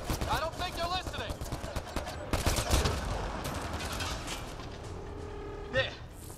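Bursts of Mass Effect Andromeda gunfire rattle in fast volleys with mechanical clanks and a louder blast midway, while voices talk over the shooting.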